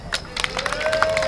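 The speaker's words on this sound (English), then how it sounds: "Stop, guys. Don't clap for that." Brief bursts of clapping from a small street crowd watching a magician, uneven and close, with voices faintly mixed in.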